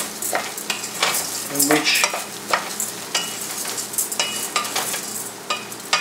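Rice for risotto alla milanese toasts in a hot pan, crackling and hissing as it is stirred briskly with repeated scraping strokes. A brief voice is heard over the sizzle.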